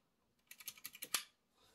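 Typing on a clicky blue-switch mechanical keyboard, with a quick run of about eight sharp, bright keystrokes close up in a quiet room.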